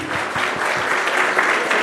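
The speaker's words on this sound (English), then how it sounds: "let's all start with a loud round of applause." Conference audience applauding at a national medical leadership event, a dense, steady round of clapping lasting throughout, loud and close with no talk over it.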